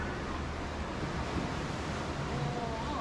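Sea waves surge at the entrance of a sea cave on Capri, a steady loud wash of surf with wind buffeting the microphone and no clear break in the roar.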